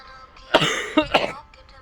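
A few sharp coughs in quick succession, close and loud, followed by a brief throaty rasp before fading into quiet.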